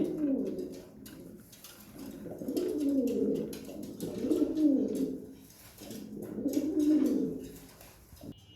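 A loft of military and homer pigeons coos in repeated rolling, throaty phrases, close and steady with brief pauses between bursts and no talking.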